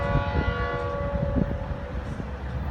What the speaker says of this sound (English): Just listen to the rails humming.